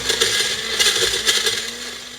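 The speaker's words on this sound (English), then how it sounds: "Put your lid on tight, and now we're gonna blend," A blender runs steadily at high speed, its motor whirring loudly with a gritty, crunching churn as a thick frozen breakfast shake is blended with the lid on tight.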